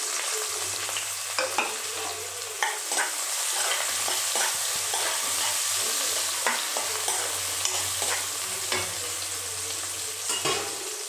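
Chopped onion sizzles steadily in a pan for prawn curry, with repeated sharp scrapes and clicks of a spoon stirring it at close range, and no voices over it.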